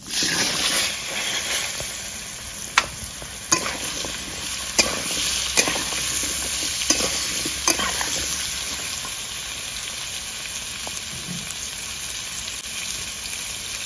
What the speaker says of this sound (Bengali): আমি আলুটাও ভেজে নেবো